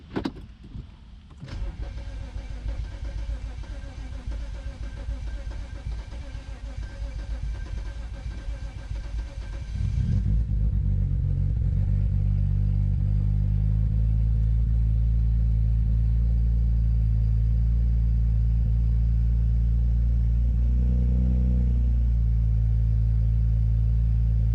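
A BMW 335 with the N54 engine, just after intake valve cleaning, cranks for a while and then catches, settling into a loud, steady idle rumble that holds to the end, with no voices.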